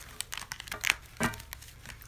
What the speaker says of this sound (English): Just give a few shuffles on the table real quick.